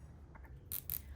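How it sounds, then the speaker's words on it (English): A zip tie is pulled tight in two quick, close ratcheting zips, short and crisp against a quiet background. "I love the sound of a good zip tie"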